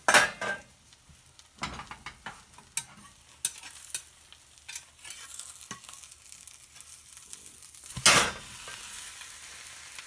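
Red onions cooking down in a covered pan over low heat, with clinking stirs and scrapes of a utensil against the pan, a sharp loud clatter near the end, and a soft sizzle underneath.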